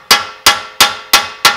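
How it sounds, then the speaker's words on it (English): Five sharp metallic hammer taps on a Volkswagen Transporter wheel hub, evenly spaced about a third of a second apart, each ringing briefly and decaying, close and clear with no talk. "using your hammer"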